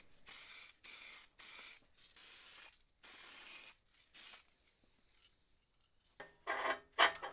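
A car heater part from a Triumph TR7 is spray painted in short hissing bursts, about seven close aerosol blasts with pauses between, then a couple more louder sprays at the end.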